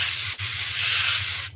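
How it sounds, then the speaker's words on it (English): Short hiss of an airbrush spraying paint onto a bullfrog fishing lure, one continuous burst with a brief break near the start, close and fairly loud, with no talking. "And then just spray along the edge of your thumb."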